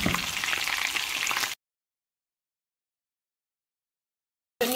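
Chicken meat sears in a pan, a close steady sizzle and crackle for about a second and a half, then silence before the sizzling briefly returns.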